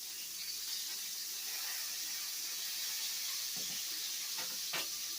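Pork breakfast sausage sizzling in a frying pan gives a steady, even hiss of frying fat throughout, with a few soft scraping or stirring touches toward the end.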